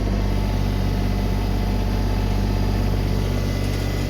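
Engine running steadily at roughly 1900 RPM with the pedal pressed slightly during a 236-hour service, giving a loud, continuous low drone with an even, unchanging hum.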